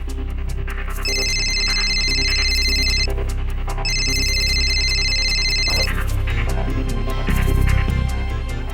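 An electronic phone ringtone trills in two long bursts with a short gap between, over a low background hum.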